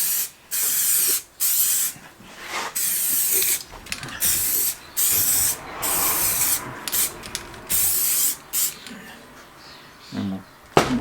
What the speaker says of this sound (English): we'll just start here and just put a mist painting on